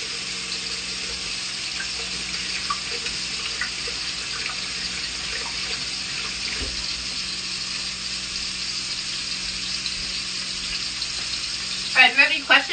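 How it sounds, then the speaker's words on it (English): Hands are washed under a running kitchen tap while cooking bulgogi burgers; a steady, fairly soft stream of water runs throughout, with a brief burst of splashing or clatter near the end. "I'm gonna wash my hands again."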